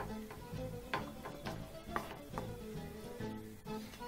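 A wooden spoon gently mixes hot spaghetti in a single pot, giving soft, fairly regular knocks and scrapes about twice a second against a quiet background.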